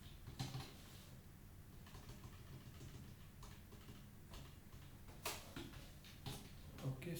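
Computer keyboard keys clacking as code is typed, quiet irregular bursts of clicks with short pauses and a few sharper strokes, heard alone without talk.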